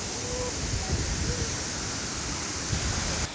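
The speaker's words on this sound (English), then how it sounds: "The waterfall drops with such a force, and the scenery around is just unreal." A waterfall on the Three Waterfalls Trail in Glacier National Park gives a loud, constant rushing roar of falling water that fills the whole clip, steady and close.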